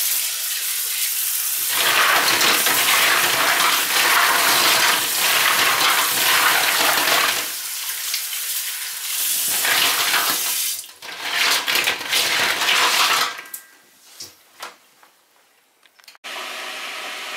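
Snails are rinsed under running tap water, loud gushing bursts starting and stopping several times, splashing in a sink with brief pauses and handling noises.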